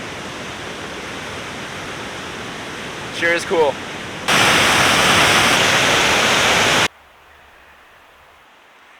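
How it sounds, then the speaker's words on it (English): Rainbow Falls, a large waterfall on the Steel River in Northern Ontario, roars as a loud, steady broadband rush that surges even louder partway through, with a brief spoken comment early on. "Out at Rainbow Falls right now, and it's pretty much everything you could want in a waterfall. Huge, loud, wet, full of water"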